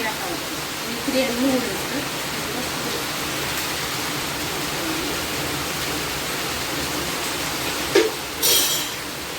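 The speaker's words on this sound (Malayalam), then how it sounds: "നല്ല മഴയുണ്ടല്ലേ" A steady wash of heavy rain hisses throughout, dense and unbroken, with faint voices surfacing briefly now and then.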